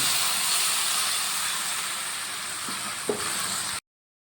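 Water hits spiced banana flower frying with mung dal, and a steady loud hiss and sizzle rise from the pan, with a brief clink near the end before the sound cuts off abruptly.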